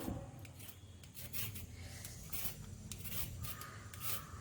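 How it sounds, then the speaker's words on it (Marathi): Carrots rubbed against a hand grater for a Konkani koshimbir salad, a steady rasping scrape with repeated strokes, close and moderately loud, no talking. "पयलीं गाजरार साली काण हे किसून घेवया."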